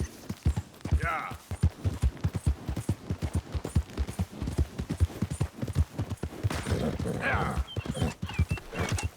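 Horse hooves clip-clop steadily on the ground in Red Dead Redemption 2, a fast, regular run of close hoofbeats with a brief whinny partway through and a short spoken word.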